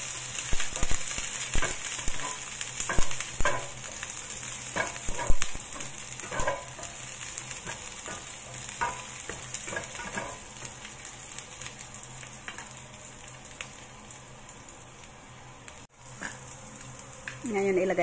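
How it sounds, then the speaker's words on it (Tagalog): Scallions and garlic frying in a pan, heading toward a bitter gourd (ampalaya) dish: a steady close sizzle with irregular stirring scrapes and clatters, and a speaking voice in places. "Ayan, i-fry lang muna natin yan."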